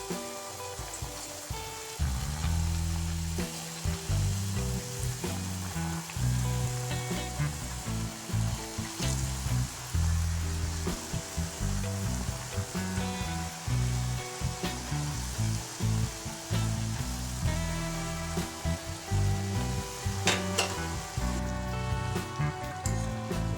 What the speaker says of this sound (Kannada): ಮೀಡಿಯಮ್ ಫ್ಲೇಮ್ ಇಟ್ಕೊಂಡು ಎಣ್ಣೆಗೆ ಒಂದೊಂದೇ ಹಾಕಿ